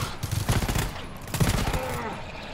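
In the video game GTFO, gunfire rattles in rapid bursts of automatic shots, loud and close, with players talking over it.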